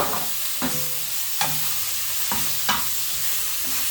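Vegetables and prawns stir-fry in a pan with Maggi sauce, giving a steady close sizzle. A few sharp scrapes or stirs cut through it at regular intervals, and nobody speaks.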